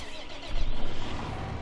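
A New Holland tractor engine starts in the video game Farming Simulator 2015, with a brief cranking catch followed by a rising, rumbling low engine note that settles into a steady run.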